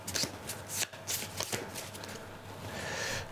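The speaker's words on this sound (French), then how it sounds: "je remélange toutes les cartes" Deck of cards from the Arkham Horror board game being reshuffled by hand, a close, soft riffling and flapping in several quick bursts followed by a steady rustle.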